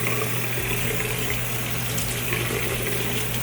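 A bathroom sink tap runs steadily while a face is washed, a continuous close splashing gush with slight hand-driven variations and no talking.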